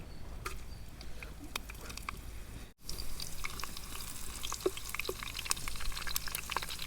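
Cinnamon and cloves fry in heated oil for a guinea fowl curry, a steady close sizzle and hiss that breaks off for a moment, then resumes slightly louder with scattered small crackles.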